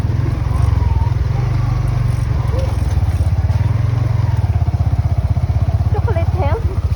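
A motorcycle engine runs steadily and close by, its low throbbing drone continuous throughout, with people talking faintly over it.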